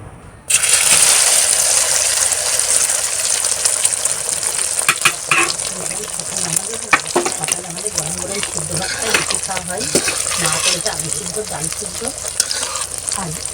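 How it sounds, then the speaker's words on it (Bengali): An egg fries in a hot pan in a village home kitchen, giving a loud, continuous close-up sizzle with spitting crackles that runs unbroken for over ten seconds. "এখন আমি ডিমটা ভেজে নেব।"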